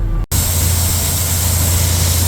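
A Case tractor engine runs at a steady, loud low rumble, close by and continuous after a brief cut at the start, with no talk over it.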